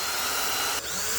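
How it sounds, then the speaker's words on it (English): A power drill boring holes into a water gun piston: a loud, steady high-pitched whine that runs almost without a break, dipping for an instant midway before winding straight back up, with nobody talking over it. "Now we're going to drill 2 holes in the piston."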